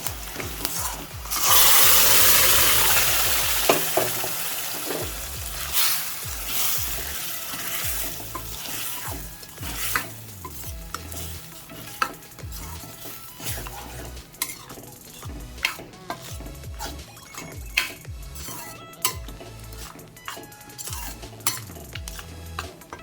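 Mulai keerai greens are stirred into sautéed onions in a pan, with a loud burst of sizzling at first followed by repeated metal spoon clinks and scrapes against the pan under a low frying hiss; no speech.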